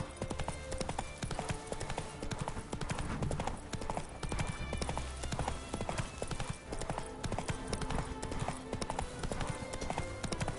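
The horse Roach gallops in The Witcher 3 with rapid, driving hoofbeats that drum steadily throughout, close and prominent, over a faint game ambience.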